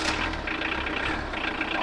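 A small Japanese kei van sits idling, its engine giving a steady, rough, tractor-like rumble close by with no talking over it.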